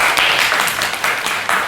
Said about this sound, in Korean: 여러분들 우리 질문을 해주신 분께 박수를 보낸다